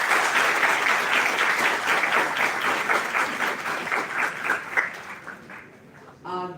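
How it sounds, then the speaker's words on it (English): A large audience claps steadily and loudly at a university event in Pune, the applause thinning and fading toward the end before a brief different sound cuts in. "A very big round of applause, please."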